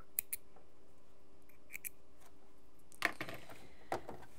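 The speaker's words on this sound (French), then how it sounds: "Ici, je vais aussi venir couper en biais et je vais couper mon dernier picot." Scissors snip through fabric and elastic picot edging while sewing a shaping pin-up knicker, with a few faint clicks early on and two crisp, close cuts near the end in a quiet room.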